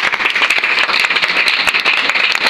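A church congregation claps and applauds loudly and continuously, a dense close wash of many hands with no pauses.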